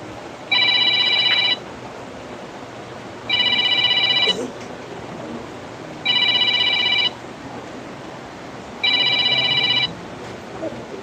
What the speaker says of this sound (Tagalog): Ay tumatawag sa cellphone ni Mark, tumitira.